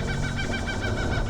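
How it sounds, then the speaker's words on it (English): Kookaburras calling in the Adelaide Hills along Gorge Road, South Australia, a rapid repeating chorus of rising and falling whoops heard over a steady background rumble. "Can you hear the kookaburras singing?"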